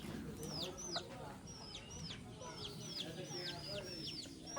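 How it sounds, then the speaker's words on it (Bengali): Hens and small chicks in a village yard, with high, repeated falling peeps from the chicks over low, steady clucking from the hens, close by and continuous against a busy outdoor background. "ওই দেখো এখানে দেখো এখানে মুরগির বাচ্চা আছে"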